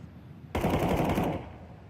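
Rapid automatic gunfire from a MAC-10 submachine gun in a Counter-Strike 2 esports match, a sudden loud burst of fast shots that starts abruptly and then trails off, with no talk over it.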